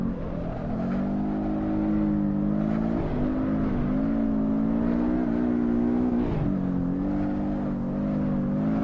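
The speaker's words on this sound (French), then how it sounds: "ça fait pas un bruit de Porsche, ça fait un bruit de coccinelle" A simulated Porsche engine in a drifting video game drones steadily with a buzzy, rough tone, pitch wobbling slightly as it revs and eases, loud and continuous throughout.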